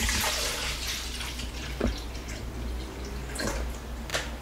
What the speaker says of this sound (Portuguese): Eu vou pôr mais ou menos meio litro d'água.